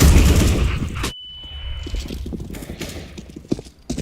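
A flashbang grenade detonates in a tactical shooter game, a sharp loud bang followed by a steady high ringing tone that hangs for about a second as muffled footsteps and movement continue underneath.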